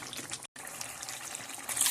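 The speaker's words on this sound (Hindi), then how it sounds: "तो अब हम इसमें थोड़ा सा पानी ऐड करते हैं क्योंकि ये थोड़ी सी हम ग्रेवी वाली रखेंगे।" Water pours steadily into a wings karahi to make gravy, a continuous close hiss and trickle with a brief break near the start.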